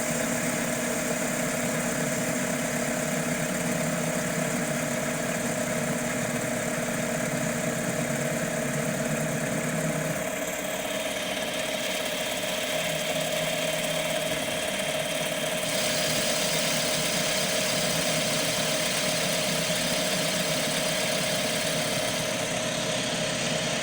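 A CNC mini lathe turning a ball shape, its motor humming steadily with a continuous whine and cutting noise that shifts in tone partway through, close up and with no talking.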